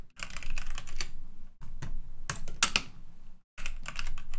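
Rapid clatter of computer keyboard typing comes in close bursts, pausing briefly twice, with no voices.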